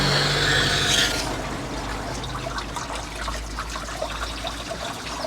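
Water flushed through the cooling pipes of a boat engine, with the thermostat housing removed, gurgles and trickles steadily at close range after a brief louder hiss at the start.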